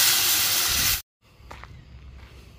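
A steam machine used for hydrating grains for mushroom growing blasts a loud, steady hiss of steam that cuts off abruptly, leaving quiet room noise with a few faint knocks.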